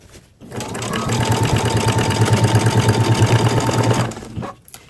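A sewing machine stitches through a thick seam of a fabric bag, a steady rapid mechanical whir of needle strokes running a few seconds at close range, then stopping.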